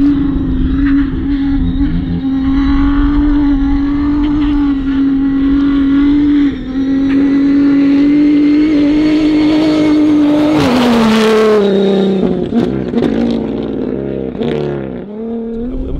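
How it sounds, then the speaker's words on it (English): Dakar 2023 rally race cars roar past in the desert, a loud sustained engine drone gradually shifting pitch before a vehicle sweeps close by with a surge of noise, then fading away. "down this way all the cars are coming"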